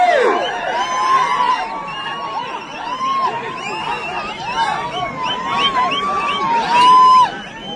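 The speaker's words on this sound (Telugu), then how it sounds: "కేకలేసి చప్పట్లు కొడితే చివరికి వెళ్ళిపోతాయి. గట్టిగా కేకలు." A crowd shouts and cheers at a bull cart pulling contest, with loud, continuous excited yelling and calls over the outdoor noise; people talk throughout.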